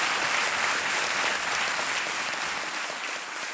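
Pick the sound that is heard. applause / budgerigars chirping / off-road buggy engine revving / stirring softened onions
applause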